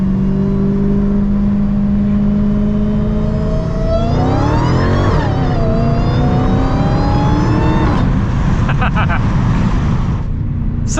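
A Dodge Challenger Hellcat's engine revs loudly while driving through an underpass, pitch rising and falling across gear changes with a harsh, whining supercharged tone, close and continuous over road noise.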